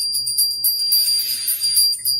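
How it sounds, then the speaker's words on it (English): A small hand bell is rung repeatedly during a quiet spiritual session. It gives bright, high, tinkling strikes in a steady rhythm with shimmering overtones, close and alone. "just having a bell and doing the bell and just ringing the bell"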